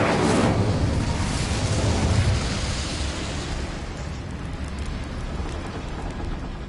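A fire spell cast in the video game Hogwarts Legacy: a loud, roaring whoosh of flame bursts out at once and crackles on steadily, slowly easing off over several seconds without any talk.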